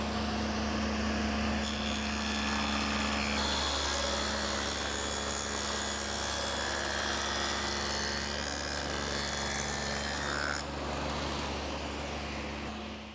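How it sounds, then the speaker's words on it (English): A table saw fitted with a dado head cutter runs steadily while cutting grooves in wooden pieces for a medicine cabinet, giving a loud, continuous whine and rough grinding roar that lasts throughout and fades slightly at the end. "I've set up the saw with the dado head cutter again"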